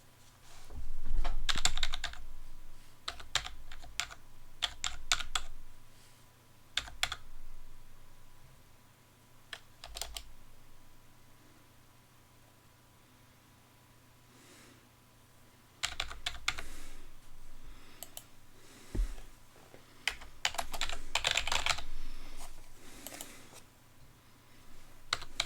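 Bursts of typing on a computer keyboard while entering card details for a gaming PC order, several clattering runs of keystrokes separated by quiet pauses, close and clear with no talking.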